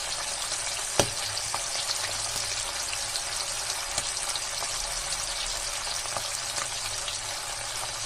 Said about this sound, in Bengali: হালকা করে ভেজে আমি এটা তুলে নেব, তাহলে ইলিশ মাছের যে সেন্টটা সেটা থাকবে।